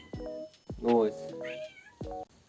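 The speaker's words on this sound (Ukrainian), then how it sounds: "Так що ти нявкаєш там?" A cat meows several times in quick succession, close and clear, a few short calls and one longer, rising cry.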